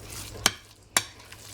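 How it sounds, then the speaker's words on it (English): A spoon stirs poultry seasoning into a cornbread dressing mix. Two sharp clinks about half a second apart stand out over a quiet, soft scraping background. "Give that a stir."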